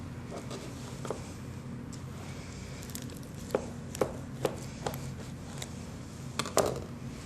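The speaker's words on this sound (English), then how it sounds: "Cut off any unwanted net." A knife slices netting off a raw beef chuck eye roll, giving a series of sharp, close cutting clicks scattered over a steady low background hum, with no talking.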